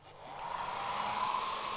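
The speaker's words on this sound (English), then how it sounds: "now we need the hair dryer. Okay, it's going to be loud." A hair dryer switches on and ramps up into a steady, loud whooshing roar, running continuously for a pastel art demonstration with no voices heard.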